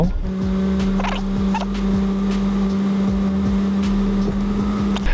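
A Porsche Cayenne engine idles after starting with a steady low hum close by, punctuated by occasional soft clicks and taps.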